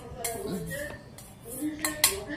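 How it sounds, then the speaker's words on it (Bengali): Curd and spices are mixed in a bowl with a spoon, producing a few clinks and scrapes of metal against the bowl, close and intermittent, with faint voice-like tones underneath. "দই মিলিয়ে দিচ্ছি"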